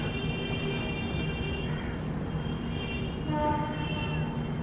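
The Howrah–Puri Shatabdi Express passenger train, running from Kolkata to Puri, rumbles along in a steady, continuous drone with faint rail squeals and no talk.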